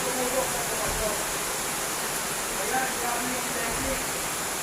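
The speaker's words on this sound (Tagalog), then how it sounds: "Grabe ang lakas ng ulan." Heavy rain pours down in a dense, steady hiss over a garden with roses, a continuous broad wash of falling water that stays even throughout, with a person speaking softly over it.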